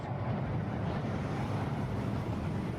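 A waterfall rushes in a steady broadband roar, fairly close and even in level, with no voices over it.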